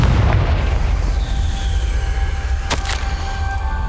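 A Confringo spell blast explodes in the Hogwarts Legacy video game, a loud rumbling boom with a sharp burst partway through, set over a continuous low-frequency roar.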